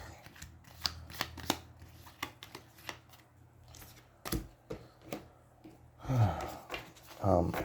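Rapid crisp riffling and card snaps close by as cards are shuffled into the turn order deck of the card game Aeons End, a burst with brief pauses, ending in louder rustles and low murmured voice sounds.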